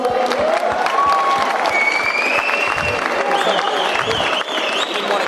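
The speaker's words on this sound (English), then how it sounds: "Give him a round of applause, guys." Crowd applause at a boxing event in Bendigo, a loud, dense roar of clapping mixed with cheering and whistles that carries on steadily throughout.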